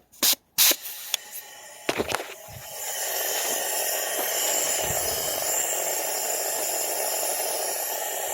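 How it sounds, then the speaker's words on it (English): A steady aerosol hiss as PB Blaster penetrating oil sprays continuously into a fuel system for several seconds, after a few sharp clicks and knocks at the start, close and fairly loud. "We'll spray some PB Blaster in here."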